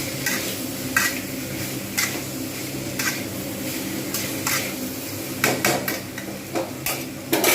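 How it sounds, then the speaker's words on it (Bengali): Soybean curry masala is sautéed in a pan for a dhaba-style soya chunk curry, with a steady low sizzle beneath repeated sharp spatula scrapes and knocks against the metal at irregular intervals. "এইরকমভাবে আমি কিন্তু কষতে থাকবো"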